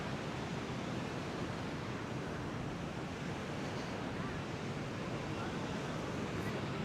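Waves washing onto a Texas beach make a steady, full roar of surf, with heavy wind buffeting the microphone throughout and no pauses.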